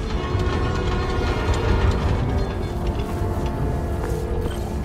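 A New York subway train rumbles past close by, with a steady, loud roar and rattling wheel clatter that holds throughout.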